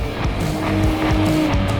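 Revving engines of a 2020 Toyota Camry TRD and a Civic Type R launching hard in a drag race, loud and close, with rising and falling tones as they accelerate away.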